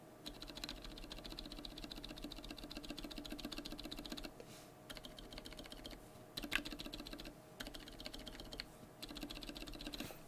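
Steady typing on lubed Gazzew Boba U4 silent tactile switches, a close, muted run of soft thocking keystrokes with a few brief pauses and no voices.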